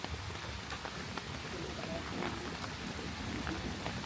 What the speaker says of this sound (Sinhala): මේ පාරේ අපි යන අතර මගදී වැස්ස තවත් හොඳටම තද කළා